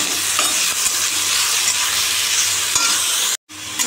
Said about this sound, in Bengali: এই আলু দিলাম, ভালো করে একটু ভাজবো